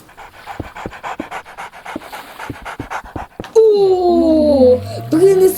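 Dog Patron pants in quick, steady rhythmic breaths in a Minecraft game, close and clear, before brighter whistling and tonal game effects take over partway through.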